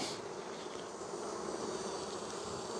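A dense, steady hum of many honey bees buzzing around an open hive, close and constant throughout with no voices.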